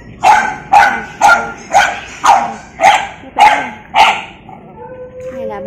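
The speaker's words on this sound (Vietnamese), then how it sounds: "Đây là 8 bé chó mà hôm qua mới được đưa về trại." Eight newly arrived dogs at a rescue shelter camp bark in a close, loud run of about eight evenly spaced barks, followed by a faint whimpering whine.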